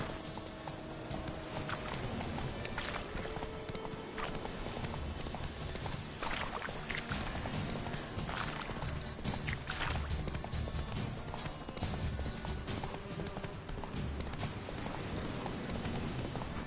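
Roach, the horse in The Witcher 3 video game, gallops with rapid, continuous hoofbeats over a dense backdrop of game sound, steady throughout.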